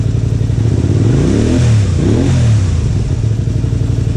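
A Honda Spada motorcycle engine being brought back to life, loud and close, idling and then revving up and back down once before settling to a steady idle.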